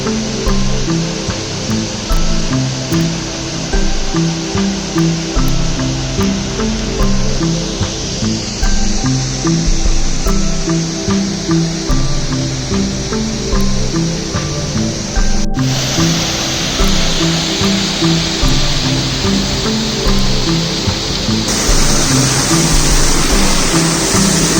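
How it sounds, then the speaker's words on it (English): Waterfall number 1 on the Four Waterfalls Walk in the Brecon Beacons, a steady, loud roar of falling water that rushes on unbroken throughout, with no voices over it. "Here we are at the bottom of waterfall number 1."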